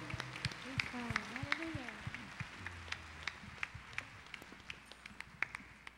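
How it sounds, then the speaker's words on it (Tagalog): Congregation at a religious worship gathering clapping for God, scattered rhythmic claps building into steady applause, fairly faint and distant, with voices singing or calling at the start. "Palakpak na buhay kay Yahweh El Shaddai."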